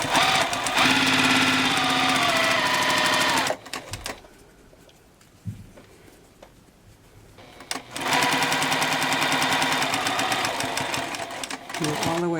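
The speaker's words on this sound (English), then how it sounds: "Now let's back stitch that." Sewing machine back stitching the channels of a fabric face mask, a loud rapid whirring run that pauses briefly with soft fabric rustles, then resumes at full speed, with a voice talking under it.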